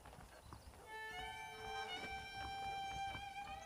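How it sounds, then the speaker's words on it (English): Saddled horses in the Red Dead Redemption video game, with the muffled clip-clop of hooves and a drawn-out tonal whinny rising over soft ambient noise. "The horses are saddled up over here"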